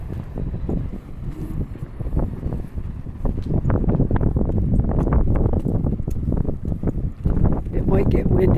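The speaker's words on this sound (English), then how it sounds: "I'm kind of protecting my phone from the wind because it's right in front of me." Wind buffeting a phone microphone on a city walk: steady, rough low rumble with gusty flutter, continuous throughout, no clear talk.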